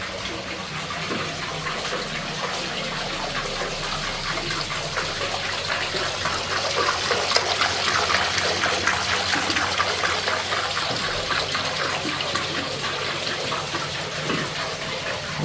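Steady rushing and splashing water from a museum water wheel and pump in Bewdley, Worcestershire, continuous and fairly close, running alone without speech for the whole stretch.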